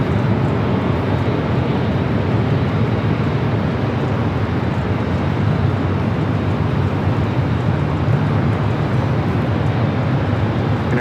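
A heavy jet airliner taking off at LAX, a steady, loud, broadband engine roar that holds evenly with no break.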